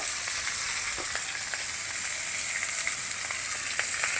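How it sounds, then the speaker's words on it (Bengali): Dried chilies tempering in hot oil in a pan of hilsa fish head cooked with taro, giving a steady, even sizzle with small crackles and no voices. "এই যে মাছের মধ্যে শুকনো মরিচ ফোড়ন দিয়ে দিব"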